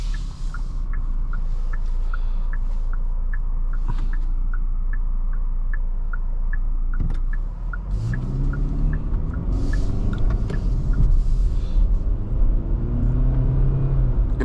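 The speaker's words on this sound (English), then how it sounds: "Hear that 4-cylinder wind itself out there" A 4-cylinder Kia Sportage X-Pro Prestige engine revs and winds out while driving, a steady loud drone with road rumble that rises in pitch under acceleration, heard from inside the cabin with no talking.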